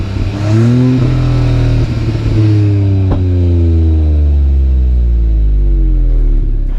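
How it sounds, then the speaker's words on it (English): A Hyundai i20 N Line revs hard on a driving road, its sporty exhaust note rising and falling through loud, sustained engine sweeps with a deep rumble underneath. "a sportier exhaust note"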